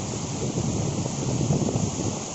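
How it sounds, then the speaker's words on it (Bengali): Water at Gadgada waterfall gurgling and rushing down stone steps, a continuous close wash of noise with light wind buffeting and no voices. "কুলুকুলু শব্দ করতে করতে এই জল এগিয়ে চলেছে নিচের দিকে পাথরের ঘাট বেয়ে।"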